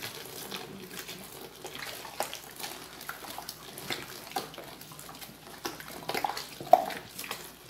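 Ten litres of room-temperature water splash into a container to make baking soda dish detergent, a soft ongoing gush and trickle with scattered small clatters, fairly quiet and with no talking.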